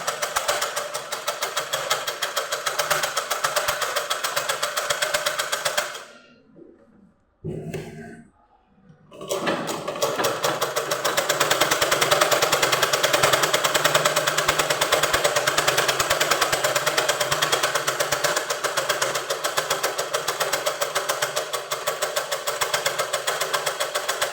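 A sewing machine stitching a readymade churidar sleeve runs with a fast, steady mechanical rattle and hum, stops briefly partway through, then starts again and runs on loud and close.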